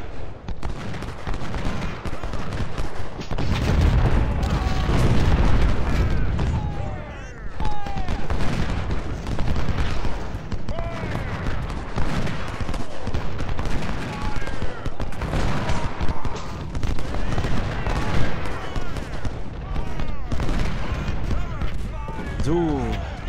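Cannon booms and rifle volleys fill a Civil War battle in Ultimate General: Civil War, the repeated gunfire rolling on continuously while someone speaks over it.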